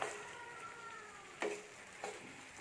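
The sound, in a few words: stirring chicken into masala in a pan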